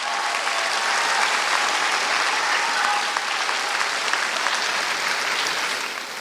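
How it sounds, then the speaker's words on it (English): Sustained, full applause from a large audience at Chabot College's 2024 commencement ceremony, steady and even for several seconds before easing slightly at the close, with no one talking over it. "Let's give that a round of applause."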